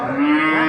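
A large-framed older Sahiwal cow with six teeth and wide-set horns gives a single short, loud moo close by at Habibpur cattle market, a steady low bellow that swells slightly midway, with no talking over it.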